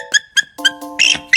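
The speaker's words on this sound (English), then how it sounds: "Bald eagle." A bald eagle gives a series of short, high, thin chirping calls, about five sharp bursts in a loose uneven rhythm, with faint steady tones held underneath.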